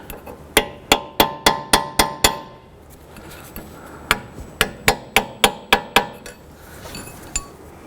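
A hammer taps a punch around the C-clip of a wheel bearing pressed into the knuckle of a 2006-11 Honda Civic, making two bursts of about seven sharp metallic taps in a steady rhythm, close and clear with no talking.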